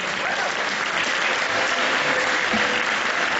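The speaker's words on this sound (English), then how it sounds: "Have a big round of applause for Mrs. Baxter." A school spring concert audience gives a sustained round of applause for a teacher, dense even clapping filling the room at a steady level without pause.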